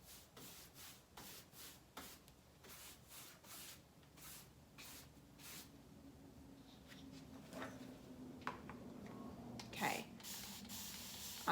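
A fine mist sprayer puffs water onto paint during a mini wardrobe makeover, a series of quick soft hissing bursts in a steady rhythm up close, followed by quieter rubbing and scattered spritzes.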